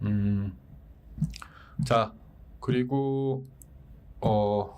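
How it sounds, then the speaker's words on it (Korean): Soft wet lip smacks and tongue clicks from a dry mouth break into a man's Korean stock-market commentary, scattered briefly between his spoken phrases. "이게 낼 때 본의 아니게 이렇게 쩝쩝대게 돼 있어요."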